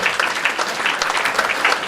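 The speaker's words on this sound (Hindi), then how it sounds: "आप सब खड़े होकर इनके लिए ख्याल में खड़े होकर इनको ताली बजा के इनको ऑनर कीजिए" A standing audience applauds steadily at an evening mushaira poetry gathering in Byculla, the dense clapping filling the hall at an even level throughout, with no voices heard over it.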